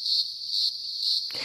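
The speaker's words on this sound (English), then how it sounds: "That is a choir of some of the most common cicadas in Australia" A chorus of greengrocer cicadas recorded in the field in Australia produces a continuous, shrill, pulsing drone that stays loud and steady before cutting off abruptly near the end.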